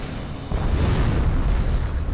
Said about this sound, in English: The nuclear explosion.